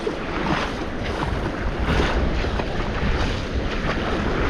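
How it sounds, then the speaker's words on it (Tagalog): Big ocean waves surge around a small fishing boat at sea, a loud, dense, continuous wash of water with heavy wind buffeting the microphone and no voices. "Grabe lalaki ng alon."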